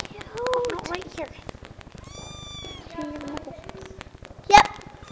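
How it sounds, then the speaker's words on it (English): Several kittens meow near a combine on a farm, giving repeated high, thin cries in short bursts. An excited voice talks over them, and there is one sharp louder cry near the end. "Kitties! Oh, they're so cute!"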